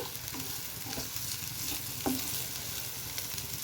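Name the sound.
cauliflower frying in a pan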